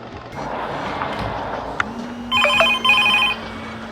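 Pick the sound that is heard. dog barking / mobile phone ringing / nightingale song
mobile phone ringing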